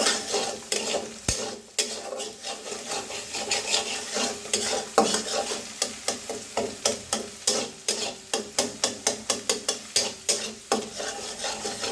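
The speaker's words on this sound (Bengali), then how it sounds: "তো ডিমগুলো ভাজা ভাজা করে ফেললাম" Eggs with Maggi masala seasoning frying and being stirred in a pan, a steady sizzle broken by rapid, regular scraping strokes and occasional utensil clicks against the metal, close and alone with no talking.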